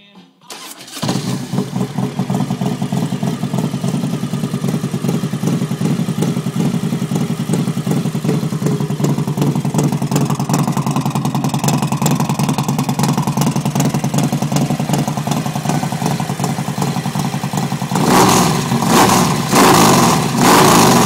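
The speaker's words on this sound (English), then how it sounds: "So we'll hit the compression release and pull the choke a little bit." A 1999 Harley-Davidson Electra Glide motorcycle engine cranks and fires, settling into a loud, steady rumbling idle and then revving harder near the end, close up with no talking.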